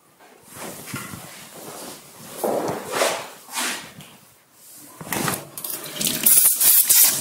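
Tap water running in bursts as the neck of a bottle-shaped cylindrical cake is rinsed of white colouring, splashing on and off close by, rising louder toward the end.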